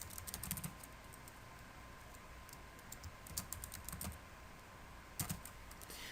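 A folder name being typed on a computer keyboard: short runs of soft key clicks come in small bursts with gaps, quiet and close over a steady faint background hiss.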